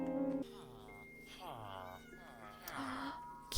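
Repeated cat meows from Minecraft, several rising-and-falling cries in a row at moderate loudness, with other game tones in the background.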